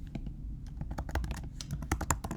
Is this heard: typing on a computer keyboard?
yes